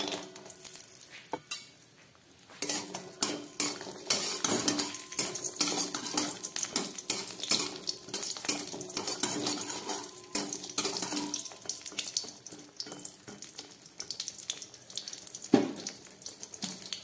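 Bori lentil dumplings fry in hot white oil in a wok, giving an irregular close crackle and spatter with occasional utensil clinks and no voices.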